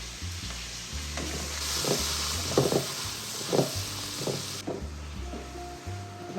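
Garlic, green chili and onion frying in a pan, a steady close sizzle with occasional louder crackles and stirring knocks throughout.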